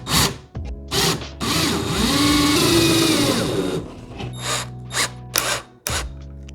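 Small M3x14mm bolts being driven into an airsoft land-mine assembly, a steady whirring mechanical run of a few seconds with scattered clicks and taps of handling before and after.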